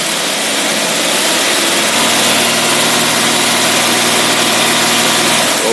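A car engine fitted with a Carter AFB carburetor runs loud and close for several seconds as a dense, unbroken roar with no clear rise or fall in pitch.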